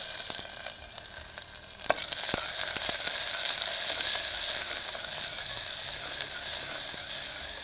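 Onions with fennel seeds and small pieces of cinnamon stick sauté in a hot pan with a steady, close sizzle and occasional stirring clicks.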